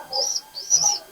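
A breeder pigeon kept in a hobbyist's loft gives two short, close calls in quick succession, soft and breathy with a thin chirping edge.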